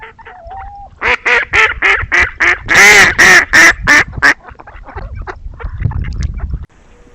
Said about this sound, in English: the quintessential mallard duck's quack is the sound of the female mallard.